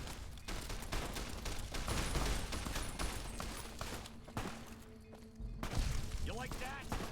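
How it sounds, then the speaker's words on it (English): Gunfire fills a Fallout New Vegas game scene, with rapid overlapping shots and bursts over constant background noise. A voice talks over part of it. "Who's shooting me?"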